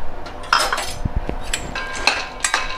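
Peanuts tossed into a kadhai with a little oil, a quick series of close metallic clinks and scrapes of a spoon against the pan, brief and fairly loud, with no voices.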